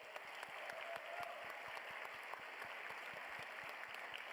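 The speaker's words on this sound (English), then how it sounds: "Can we get another round of applause for everyone here?" An audience at the DICE Awards 2024 ceremony applauds in a steady, continuous wash of clapping, heard at a distance and fairly quiet, with no talk over it.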